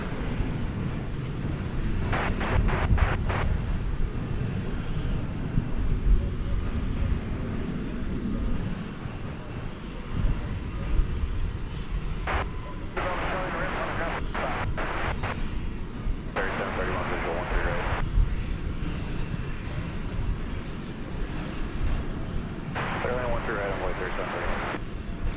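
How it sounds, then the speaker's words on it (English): An Airbus A220 arriving from Salt Lake City lands at Dallas Fort Worth, a sustained engine rumble running under intermittent bursts of speech and faint radio chatter. "A220 about to make the scene here. This one's coming in from Salt Lake City."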